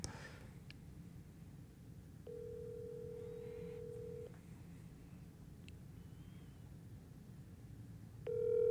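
An outgoing phone call rings out twice, each ring a steady electronic tone lasting about two seconds with a pause between, heard over a quiet hiss before a voice answers at the end.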